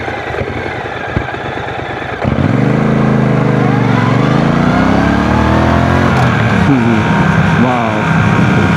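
A 1200cc motorcycle on a first ride idles briefly, then its engine roars loud and close as it accelerates, its pitch climbing and dropping through gear changes under steady wind noise.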